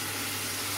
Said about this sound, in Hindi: ये देखें, ये हमारा मसाला बिल्कुल भुन रहा है